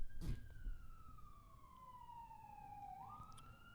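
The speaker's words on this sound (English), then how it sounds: "We got the police sirens going." A distant police siren wails in a long, slowly falling tone, faint over a low rumble of traffic.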